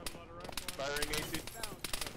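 An autocannon fires in a military video game, a quick volley of sharp shots, fairly quiet, mixed with radio-style voices talking.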